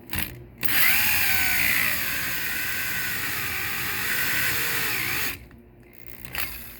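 A power drill with a hole saw bores into a glued PVC fitting, a loud steady grinding whine lasting several seconds, bracketed by short pauses and brief starts.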